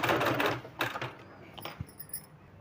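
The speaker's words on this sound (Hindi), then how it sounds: "इस तरह से फोल्ड करके इसमें इस तरह से सिलाई लगा देना है" A sewing machine stitching folded trouser fabric for palazzo pants makes a short, fast mechanical chatter that soon breaks into a few softer clicks and taps.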